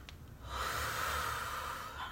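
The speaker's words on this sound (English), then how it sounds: "Deep breath in." One deep, slow breath drawn in through the nose and mouth, close and soft, with an airy rush that swells and then fades.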